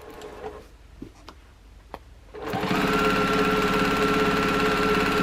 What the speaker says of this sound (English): I'm sewing it about a little bit more than 1/4 inch away.